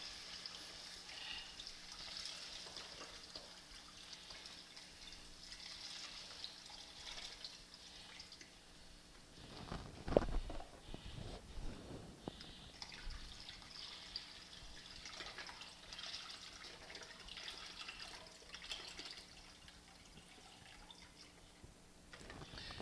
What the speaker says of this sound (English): we're going to go ahead and add our 2 quarts of our beef broth